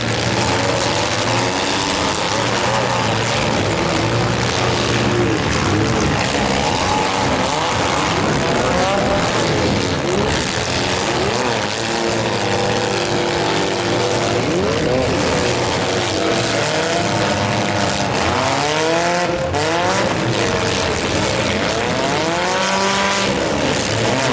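Stock compact race cars roaring around a track during a fall heat race, several engines revving and passing in loud, continuous overlapping waves with rising and falling pitch as cars sweep by.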